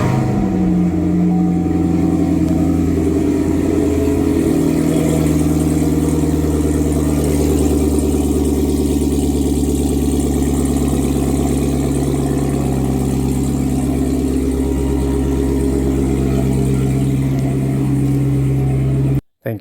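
A C7 Corvette Grand Sport's V8, fitted with an AWE exhaust and X-pipe, rumbles in a deep, steady idle, continuous and loud for the whole stretch, with no talking over it.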